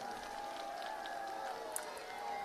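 Crowd applause from pilgrims at a Sanatan Hindu unity padyatra, a steady, faint wash of clapping heard from a distance with no clear voices above it.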